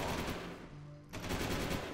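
Gunfire in Jak 2, bursts of rapid shots that fade to a lull, then resume and build toward a loud hit at the end.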